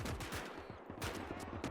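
Dense battlefield gunfire in the World War game Gates of Hell, rapid machine-gun bursts mixed with rifle shots, continuous and loud, with a faint voice underneath.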